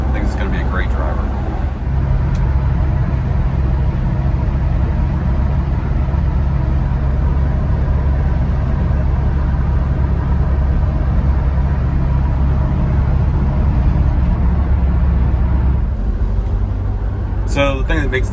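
An old pickup truck without power steering or power brakes drives along a road, its engine giving a steady low rumble with road noise throughout, loud and close, as if heard from inside the cab.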